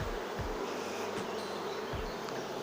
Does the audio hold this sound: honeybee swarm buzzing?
yes